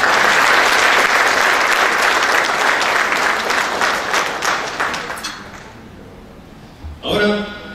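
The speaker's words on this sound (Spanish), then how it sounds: "Fuerte los aplausos." Audience at the Los Mejores del Perú award ceremony applauds loudly and steadily for several seconds before the clapping thins and fades, followed by a brief noise at the end.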